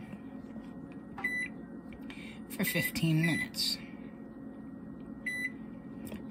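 A kitchen timer on an oven sounds short electronic beeps, one early and another near the end, under a person talking and steady background hum.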